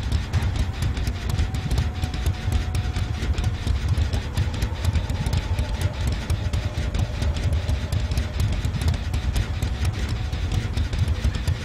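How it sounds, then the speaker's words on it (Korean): An engine in a video game starts and keeps running, a loud, steady, rumbling drone with a dense low-end roar and rapid rhythmic pulsing that lasts throughout. "엔진을 켜주는 게 좋겠죠"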